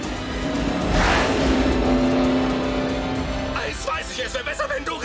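Car in a street race accelerating hard, a loud rising engine roar swelling past with a tonal whine, then fading as excited shouting takes over.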